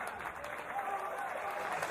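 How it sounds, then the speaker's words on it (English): Wrestling crowd in a Brooklyn arena applauding, a dense steady wash of clapping and cheering that holds loud and even throughout with no pause. "And brought this Brooklyn crowd to its feet."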